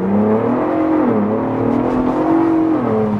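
A Ford Bronco Raptor's engine pulls hard while driving, its loud, close drone rising and dipping in pitch as the revs climb, ease and climb again, with no talking.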